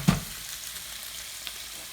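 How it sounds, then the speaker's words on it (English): Prawns stir-fry in a hot pan for Pad Thai, giving a steady close sizzle with a scraping knock at the start and a faint stirring clack later; no talking. "We're just stir frying"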